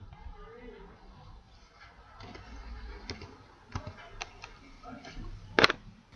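A computer keyboard is typed on in a series of sparse clicks and taps, faint and close, ending with a sharper keystroke; a voice speaks quietly in the background.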